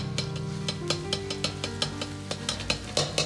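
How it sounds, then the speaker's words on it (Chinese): Ginger and garlic sizzle and stir-fry in hot scallion oil in a wok, a steady frying hiss broken by regular scraping strokes of the spatula, close and alone. "先下入姜蒜米，煸炒出香味。"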